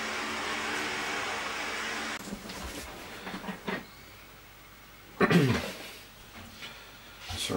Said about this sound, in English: Sorry about the sound of the wife hoovering.